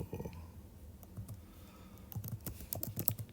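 Fingers type on a computer keyboard in quick bursts of soft clicking, sparse at first and then denser toward the end, all faint and close.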